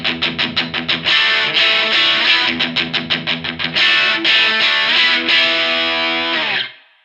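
Bright, cutting overdriven electric guitar riff from a Telecaster's bridge pickup through a Walrus Audio Fundamental Drive on its bright setting: rhythmic chugging stabs alternating with sustained chords, loud and close, ending in a ringing chord that fades out.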